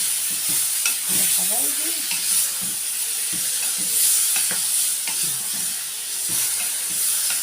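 Grated tomatoes fry with spinach and meat in a pan, a loud continuous sizzle with frequent scraping stirs, while someone speaks briefly over the cooking.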